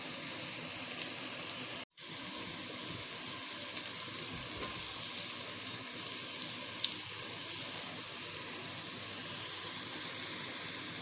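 Food for sayadieh fries in a pan with a continuous bright crackling sizzle and scattered pops, interrupted by one sharp momentary dropout near the start, then steady hissing frying throughout with no talking.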